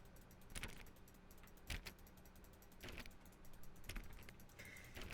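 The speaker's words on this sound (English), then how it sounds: "Why don't you go put 20 clicks into door number 417?" Repeated mouse clicks on a door in The Stanley Parable, sharp taps landing roughly once a second over a low steady background hum, with no voices.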